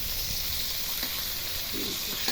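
Large pieces of fish fry in hot oil with a steady, dense sizzle that holds close and loud from start to finish, without voices.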